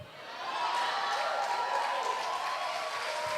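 A church congregation claps together during an Easter Sunday service, a steady, even patter of many hands that holds at moderate loudness throughout.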